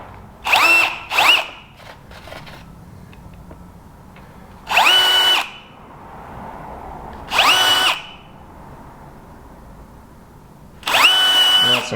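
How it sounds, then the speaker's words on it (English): A power drill whirs in four short bursts, two quick ones and then three spaced runs of about a second each, drilling holes to mount a battery shunt for a solar power system, with quiet pauses between. "so I'm going to drill some holes and use some rivets here"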